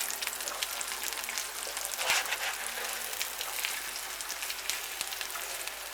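Crumbed pork chops fry in an electric frypan with a steady, soft sizzle and faint crackles and pops, no talking.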